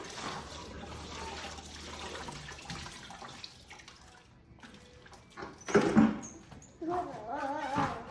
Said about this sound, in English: So we're gonna get in there and rinse out some of that tooth dust I made.